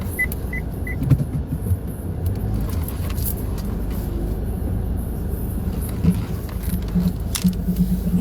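A limousine being parked produces a steady low engine rumble and road noise with a few faint high beeps near the start, heard close and continuous with no talk.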